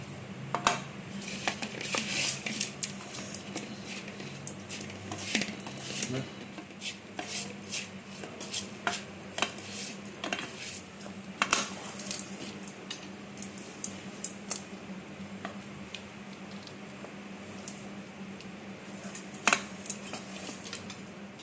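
Cooked rice stirred with ghee and black pepper in a pan, heard as scattered clinks and scrapes of a spoon against metal, with a steady low hum beneath and no talking.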